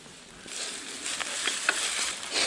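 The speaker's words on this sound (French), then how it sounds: "Il pleut." Steady patter of rain falling during a mountain bike ride, a dense hissing wash with scattered brighter drops close by, continuous for a couple of seconds with no voices.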